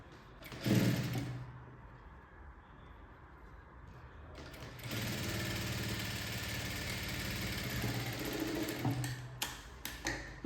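A sewing machine runs in a steady motorised whir while stitching a baby frock sleeve, with a short burst near the start and then a longer continuous run, close and fairly loud, with no voices.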